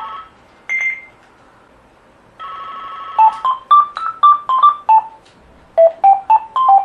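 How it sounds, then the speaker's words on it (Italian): Electronic telephone ringing: a few loud sustained tones, then a rapid melodic run of clear beeps, a pause, and another quick string of beeps, all prominent and free of talk. "Guarda se qualcuno risponde a sto cazzo di telefono"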